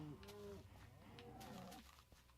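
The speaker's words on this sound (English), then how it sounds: "These mooing beasts." Cows in the video game Minecraft give a couple of low, drawn-out moos, overlapping and fairly quiet, with no speech.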